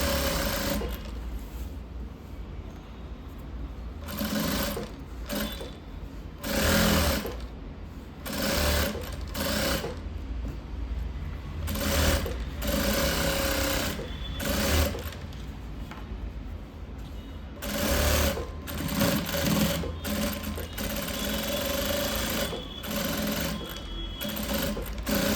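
A sewing machine stitches a lined blouse in long continuous runs with short pauses between, its rapid mechanical whirr close and steady throughout.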